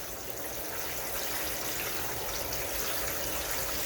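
Water is poured steadily into a plant tray beneath late-sown cucumber plants, a soft continuous splashing and trickling without pause and with no voices.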